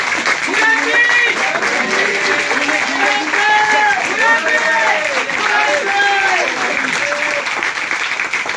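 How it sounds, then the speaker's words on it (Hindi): Loud, continuous applause from an audience at an IMC home business meeting, with dense clapping heard close throughout and voices shouting and cheering over it. "जोरदार ताली हो जाए"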